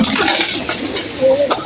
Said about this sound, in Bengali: এই যে কবুতর